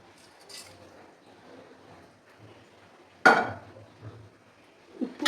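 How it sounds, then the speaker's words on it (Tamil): A ladle clanks against a pot while mashing cooked lentils with cabbage, tomato and green chili, with a few sharp metallic knocks spaced out over quiet background. "ஒரு கரண்டி வச்சு நல்லா மசிச்சு எடுத்துக்கலாம்"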